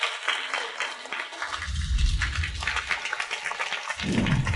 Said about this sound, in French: avec un tonnerre d'applaudissements, accueillons le marié et la mariée